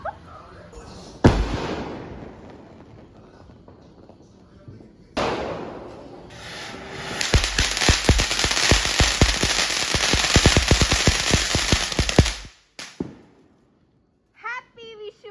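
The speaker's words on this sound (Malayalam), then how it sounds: "നമ്മുടെ വിഷുത്തെ ലാസ്റ്റ് പടക്കം പൊട്ടിക്കാൻ പോവാണ്" Vishu festival firecrackers bursting outdoors: a few isolated sharp bangs, then a long rapid string of loud crackling pops lasting several seconds before stopping abruptly, with family voices and a child's chatter around them.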